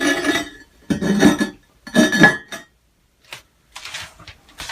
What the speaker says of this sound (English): now we can put the lid back on